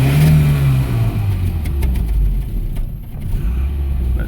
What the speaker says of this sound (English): As you can hear, it's running a little rough.